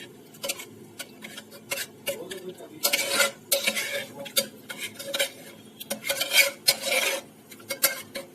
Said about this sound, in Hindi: तो अब हम इसी चम्मच से इसको घोट देंगे